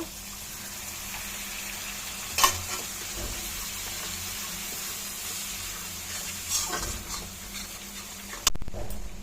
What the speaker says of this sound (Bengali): একটু জল দিয়ে ভালো করে কষিয়ে নেব।